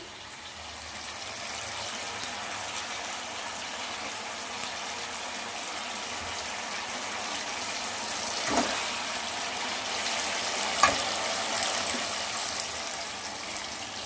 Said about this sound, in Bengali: এবার আমি মাছগুলো ধীরে ধীরে আমি এই মশলাটাই দিয়ে দেব।